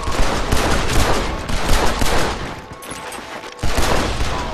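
A dense, continuous barrage of gunfire roars through a video game showdown, with overlapping shots and rapid bursts filling the whole stretch at close, loud range and a brief dip in intensity before the firing picks up again.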